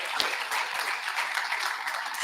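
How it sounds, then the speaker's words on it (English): Audience applause at a real estate seminar, a steady crowd of hands clapping throughout, fairly close and without talk over it. "I'd like to give Jose another round of applause."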